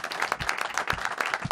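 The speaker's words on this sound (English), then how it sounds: "I think that deserves a round of applause" A studio audience gives a short burst of brisk applause during a TV show, many hands clapping in a quick, steady rhythm at close to moderate distance.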